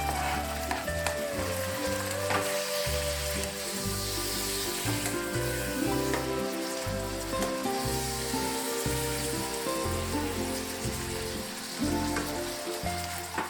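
Mushrooms frying in a pan for a stir fry, a constant loud sizzle and crackle with occasional stirring scrapes, steady throughout with no talking.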